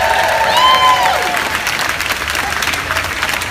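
A crowd at an anti-Trump rally in Texas applauds with dense, close clapping and a few whoops at the start, and the applause holds steady for several seconds.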